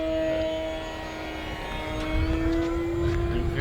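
Propeller engine of an E-Flite Sportix 1.1m RC plane drones steadily at high throttle, a sustained whine with a slight pitch shift as the aircraft flies past, no talking.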